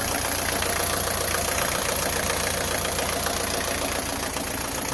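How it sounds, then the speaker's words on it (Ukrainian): A Volkswagen T3 van's engine idles close by with a steady, even mechanical rumble and light ticking throughout, still cold, with no voices over it. "Оце мій бусик так працює. Тихенько вроді непогано."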